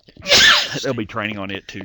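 A single loud, close sneeze bursts out, followed immediately by a person speaking.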